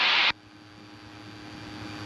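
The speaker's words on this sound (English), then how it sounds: "I think it's the sound of the motor and everything" Inside a light aircraft cabin in flight, the engine gives a steady low droning hum that holds evenly, after a brief burst of loud hiss at the start.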